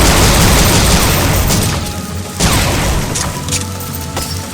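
A single gunshot in the video game Dino Stalker rings out against a loud, dense wash of game noise, with a sharp burst near the midpoint and a few lighter hits after it.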